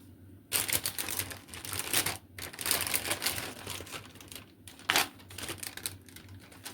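A packaging bag from a new cross stitch kit crinkles and rustles in close, uneven bursts of crackling, with brief pauses between handlings and no talking.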